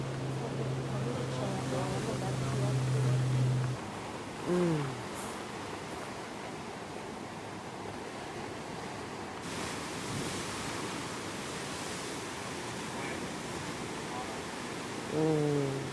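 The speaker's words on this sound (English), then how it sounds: "Just beautiful waves on the black." Ocean surf rolls onto a black sand beach on the Hawaiian coast, a steady broadband wash with a few swells, while people talk intermittently over it.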